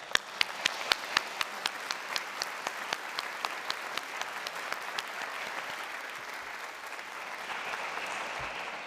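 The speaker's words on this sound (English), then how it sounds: "please give your faculty a round of applause at this moment" An audience at a college honors convocation applauds steadily for several seconds, dense clapping with a few sharper claps standing out, continuing evenly to the end.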